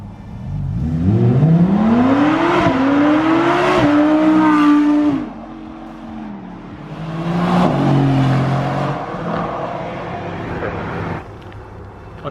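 A supercar in the Snoqualmie Mountains roars past in a loud flyby, its engine revving up through rising gears before the note drops away, then a second car's engine swells and fades in the distance.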